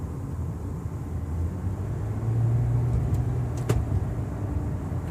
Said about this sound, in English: The engine is definitely peppier.